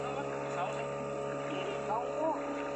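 A motorboat cruises along the Sekayam river in Sanggau, its engine a steady drone throughout, with voices talking over it.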